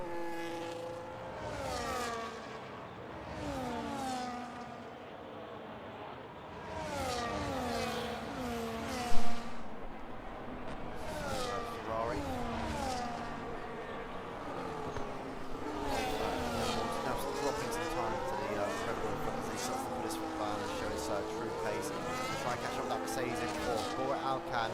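Formula 1 race cars scream through a British Grand Prix in an F1 video game race with Red Bull, Ferrari and Mercedes cars, their high engine whines rising and falling in pitch as several cars pass and overlap.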